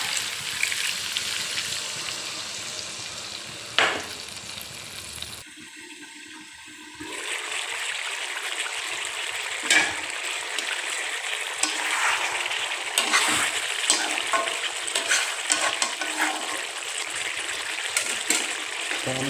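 Chicken and potatoes frying in a pan after water is added, a loud continuous sizzle and hiss broken by a brief quieter gap, with occasional stirring clatter.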